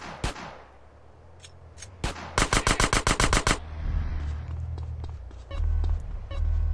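Gunfire in the video game GTA San Andreas: a couple of sharp single shots, then a fast burst of about ten rapid shots over game ambience and engine rumble, ending in a low droning vehicle sound.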